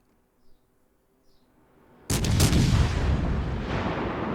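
Naval guns fire a broadside in the World of Warships: Legends battle game, a sudden loud booming blast that rolls into sustained rumbling explosions after a quiet lead-in.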